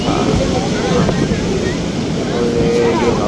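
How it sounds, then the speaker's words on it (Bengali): Strong sea wind sweeps across the beach market at Digha, buffeting the microphone with a loud, constant roar that blends with the wash of nearby surf. "সমুদ্রের কি হাওয়া"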